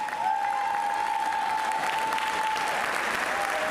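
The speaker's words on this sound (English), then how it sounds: "we must take out our big applause and thank Cindy Barger for 25 years of service" Sustained applause filling the House chamber during a legislative session, a dense, even clapping from the assembled members heard alone and continuing unbroken throughout.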